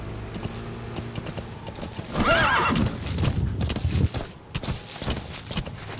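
A horse in Metal Gear Solid V gives a loud, clear whinny over steady clip-clopping hooves that continue on after the call.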